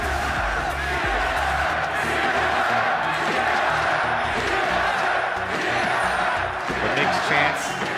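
An esports arena audience at a League of Legends finals roars and cheers continuously in a dense, loud wash of crowd noise, with a commentator's voice faintly mixed in.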